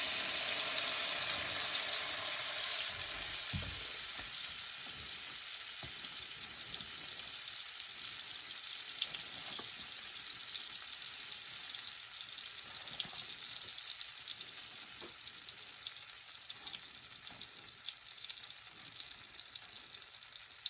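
Vegetable oil and butter sizzle steadily in a pan, a constant bright frying hiss with faint crackles and pops over twenty seconds, no voices.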